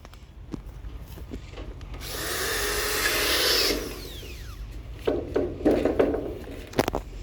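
A power screwdriver drives a fastener through a Novatik Metal Slate modular metal roof tile sheet in one sustained whirring burst of about two seconds, followed by softer handling clatter.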